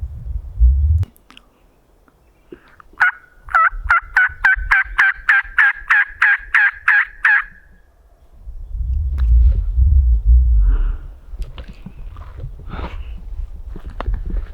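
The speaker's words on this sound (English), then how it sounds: "as long as he keeps gobbling every once in a while" A wild Merriam's turkey gobbles in a rapid rattling burst of about a dozen pulses, fairly near, after low rustling on spring public land in Utah; crunching footsteps and movement follow.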